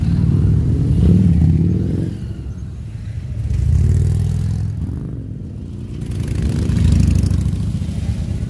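Several Harley-Davidson motorcycles sit idling together at a riding club in Hyderabad. The low, rumbling engine drone swells and fades in slow waves, with no one talking.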